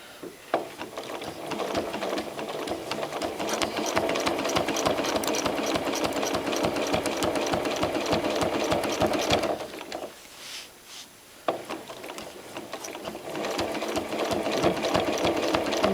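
Domestic sewing machine stitching fusible raw-edge appliqué during free motion quilting, a dense rapid mechanical chatter running steadily and close, briefly pausing midway before resuming at full speed, with no talking.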